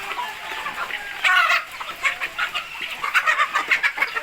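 Several chickens cluck and murmur nearby in an irregular, busy stream of short calls, with no talking, as they are fed rice in the evening while rain falls.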